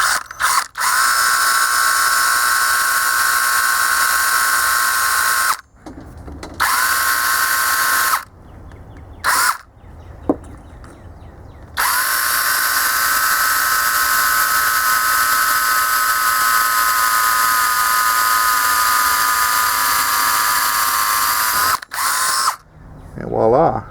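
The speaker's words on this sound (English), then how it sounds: "And I have my drill handy." An electric drill bores a hole to make a lug during a Harbor Freight 22HP engine swap on a zero-turn mower, giving a loud, steady high whine that runs for long stretches and is cut by a few short pauses.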